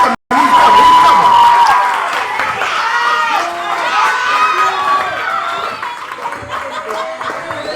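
Lively crowd at a youth poetry slam in the Bronx cheers, shouts and laughs loudly throughout, with children's voices and chatter mixed into a dense, continuous roar after a brief opening gap.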